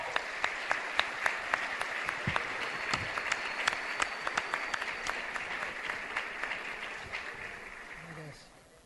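An audience at a law conference opening at a university in Bahia breaks into steady, sustained applause with crisp individual claps, fading out toward the end as a voice begins.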